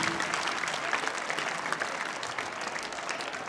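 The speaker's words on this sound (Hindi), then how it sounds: "एक बार तालियां।" Audience applause fills a school's annual prize distribution and cultural ceremony, a dense, steady wash of many hands clapping with no pauses and no voices over it.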